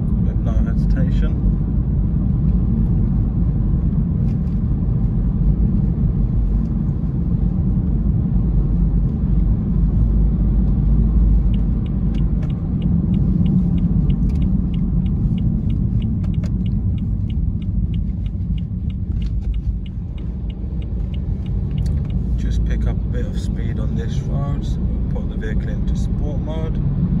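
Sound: BMW 320d xDrive car driving and accelerating

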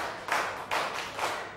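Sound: students clapping hands five times

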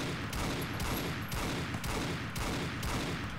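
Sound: rapid gunfire from a modded gun in Fallout New Vegas video game

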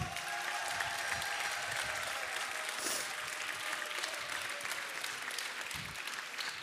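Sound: audience applause for the artists

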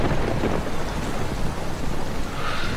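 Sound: rain and thunder on a film set

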